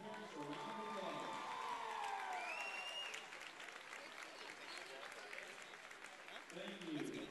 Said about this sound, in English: let's give all of our senior Dance Team members and their parents a round of applause